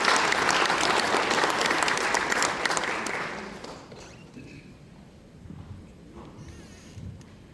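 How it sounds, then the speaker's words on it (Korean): An audience at a regional council meeting in Jeonju applauds loudly and steadily for about three and a half seconds. The clapping then fades to quiet room noise with scattered faint sounds. "힘찬 박수로 청해주십시오"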